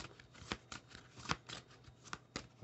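Tarot cards are shuffled close up and quietly, a run of soft riffling flutters and crisp slaps in an uneven rhythm.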